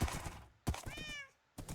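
Cats meow in a video game: several short, close meows with a rising-falling tone and brief gaps between them, with no talk over them.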